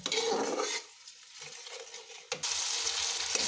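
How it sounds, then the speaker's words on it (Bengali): Spiced masala for a pomfret fish curry sizzles and fries in a pan while a spoon stirs and scrapes through it, with loud bursts of frying at the start and end around a quieter, hissing stretch; no one talks. "এবারে মশলাটাকে ভালো করে কষিয়ে নিতে হবে"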